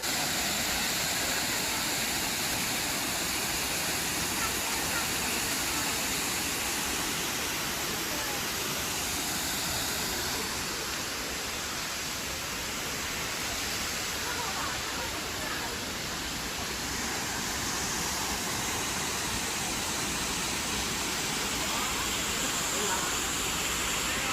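A powerful waterfall in Taiwan roars steadily, a dense, unbroken rush of falling water filling the whole scene at constant loudness from start to finish.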